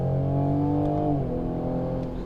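A Toyota GR Supra engine revs up, holding a strong droning tone before the pitch drops as the revs fall away, close and loud with no talking.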